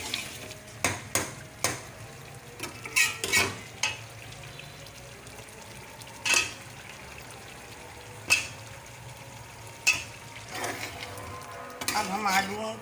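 Potatoes go into a pan of softened tomatoes and chicken for chicken aloo, bringing light frying sizzle and several sharp clattering stirs and scrapes of utensil on pan, spread unevenly across the stretch.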